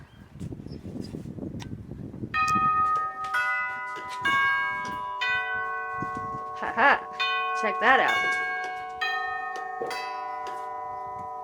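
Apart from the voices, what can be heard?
doorbell ringing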